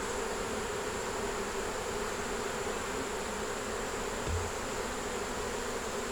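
Honeybees in a healthy hive with a queen, eggs, brood and stores hum in a steady, dense, continuous drone, loud and close throughout, with no pauses and no voices.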